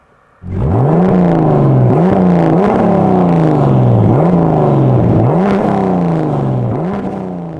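A Volvo 940 fitted with a BMW 2.5 turbo engine accelerates hard, its loud, close engine note climbing in pitch and dropping back through several gear changes in a steady, sustained pull.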